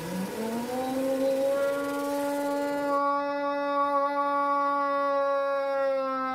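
A voice imitates a motorcycle accelerating, a rising nasal drone that climbs in pitch, then holds a steady buzzing tone, loud and alone with no other sound.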